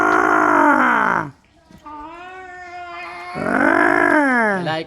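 A Bengal tiger at Avilon Zoo in the Philippines gives two loud, drawn-out harmonic roars, close by, separated by a quieter steady tonal moan.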